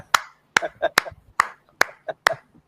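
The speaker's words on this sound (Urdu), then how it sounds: "تالیاں" A few separate hand claps ring out at a debate with a student, sharp and spaced unevenly, each one crisp and fairly close, with nothing else around them.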